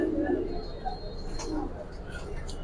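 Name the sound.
pigeon cooing while being handled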